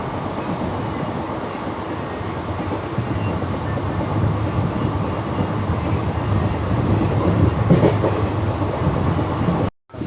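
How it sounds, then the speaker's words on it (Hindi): A train pulling into Banar railway station near Jodhpur on the newly doubled, electrified Jodhpur–Merta Road line: a steady, close rumble of rolling wagons with faint rail clatter, holding level throughout before cutting off abruptly at the end. "हमारी ट्रेन आ चुकी है बनाड़ रेलवे स्टेशन पर"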